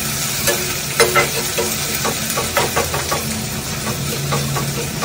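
Dry poha being roasted and stirred in a pan until crisp, with a steady close sizzle and repeated scraping strokes of a spoon against the pan, no voices.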